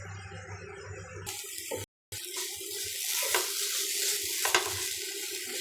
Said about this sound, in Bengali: ভেজে নিতে হবে।